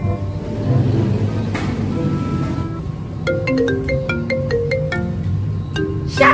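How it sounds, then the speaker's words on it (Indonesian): A phone ringtone chimes in the morning, a bright repeating melodic pattern that starts partway through over a loud, rumbling background noise, with no one speaking. "Siapa lagi telepon pagi-pagi ini?"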